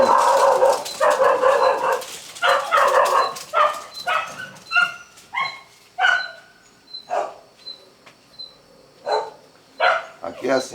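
Dogs bark in a long series of loud, close barks, first in rapid bursts and then as spaced single woofs with short yips between.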